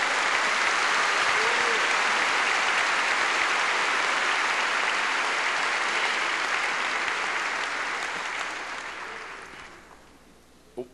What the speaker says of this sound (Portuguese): Dê uma forte salva de palmas para Jesus.